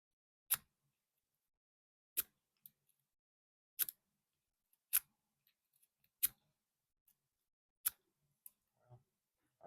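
A Brinks brass padlock is raked with a pick, giving sharp metallic clicks about every second or so, each one isolated against near silence with a few fainter ticks between.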